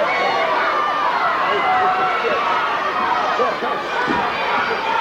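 A dense, loud roar from an arena crowd at ringside of a Von Erich professional wrestling match, steady throughout with a commentator talking over it.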